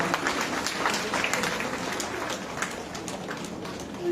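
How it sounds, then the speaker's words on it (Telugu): An audience claps to welcome a family forward at a Good Friday gathering, a dense, steady wash of applause from many hands at moderate loudness, with no speech. "చప్పట్లతోటి ముందుకు ఆహ్వానిస్తాం."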